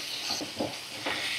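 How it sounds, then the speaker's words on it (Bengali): Cut pieces of gati kachu taro fry briefly in a pan, a soft hissing sizzle with a few quiet stirring scrapes, heard close and alone. "কচুর টুকরোগুলোকে আমি 2 মিনিট এইভাবে একটু ভাজা করে নেব।"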